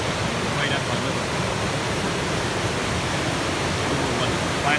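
River rapids along the Appalachian Trail rush as a constant, broad, roaring wash of water that holds steady throughout and is heard close up.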